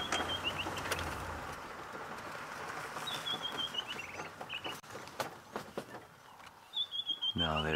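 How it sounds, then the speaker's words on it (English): Birds sing at sunrise on a safari game drive: repeated clear whistled calls and chirps over a soft background chorus, with low murmuring voices at times. "let's just listen to the birds here for a second."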